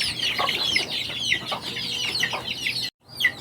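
Chickens cluck and chatter steadily in a Philippine backyard flock with ducks nearby, a dense layer of close, continuous clucking with a brief cut near the end before it resumes.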